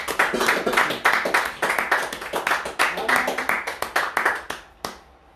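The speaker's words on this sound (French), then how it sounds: "Est-ce que je peux entendre une acclamation pour le Seigneur Jésus-Christ?" A congregation claps in praise of Jesus Christ at a French-language church service, a crisp run of quick, fairly close hand claps that thins out and stops near the end.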